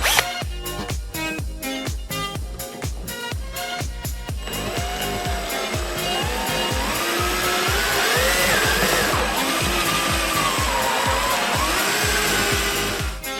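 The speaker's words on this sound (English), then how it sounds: "Now we're just going to drill it out" A power drill with a step bit cuts a hole through a tank for a water-methanol injection setup on a supercharged third-generation Toyota 4Runner: a few short stuttering bursts, then a loud, continuous whine that climbs and wavers in pitch.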